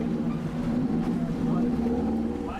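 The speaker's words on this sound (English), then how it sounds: "At the dive site, the captain revs the boat's engines." A dive boat's engines rumble loud and close at a shark-feeding ecotourism dive site, a steady low drone that swells slightly as the captain revs them.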